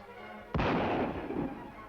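A single gunshot in dry open country bursts out loud and sudden after a moment of quiet. It is followed by a rolling echo that fades over about a second, with no voices.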